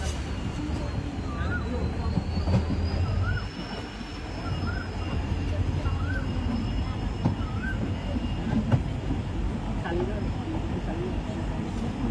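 A train leaving Howrah station rolls slowly with a low continuous rumble and occasional clanks, a faint squeal drifting above, and people talking under the noise.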